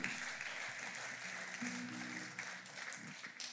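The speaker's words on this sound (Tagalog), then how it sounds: "Sige po, palakpakan po natin ang ating Panginoon." A church congregation applauds its Lord during a Filipino worship service, a steady, dense wash of clapping that runs throughout with faint tonal hum or voices beneath it.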